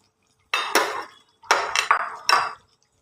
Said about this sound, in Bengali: এবার আমি এর মধ্যে ভাজা পটলটা দিয়ে দিচ্ছি।